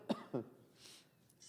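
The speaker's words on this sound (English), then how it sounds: "Sorry for the coughs." Two quick coughs close by, one sharp and one slightly longer, followed by quiet room noise.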